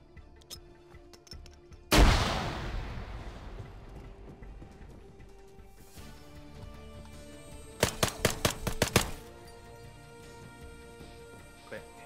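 A flashbang grenade detonates in the video game ArmA 3 with one sharp, loud bang that rings and decays over several seconds, followed later by a rapid cluster of cracking gunshots.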